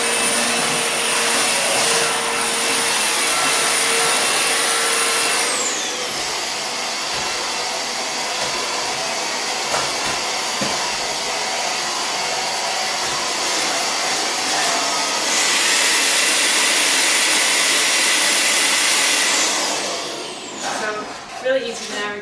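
A Roidmi S1 cordless stick vacuum runs in enhanced boost mode with a loud, continuous motor whine and airflow rush that rises in pitch partway through, then cuts off near the end.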